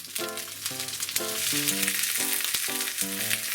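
Eggplant gyoza steaks fry in a hot pan as water is poured in, producing a loud, bursting sizzle that swells and crackles throughout, with musical tones playing underneath.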